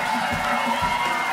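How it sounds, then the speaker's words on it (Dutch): An audience at a children's carnival song festival applauds and cheers, a steady dense wash of clapping and shouting voices filling the whole short moment. "Een applaus voor de bloeikjes."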